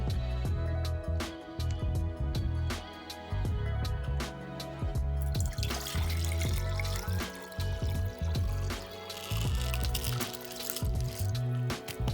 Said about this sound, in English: I'm going to put the rice back into the bowl and add water.